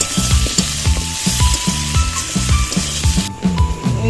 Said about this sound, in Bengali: পটল আলুটা ভালো করে কষিয়ে নিচ্ছি এবার আর একটু ভাজা ভাজা হয়ে গেলে কষিয়ে নিয়ে এবার জল ঢেলে দেবো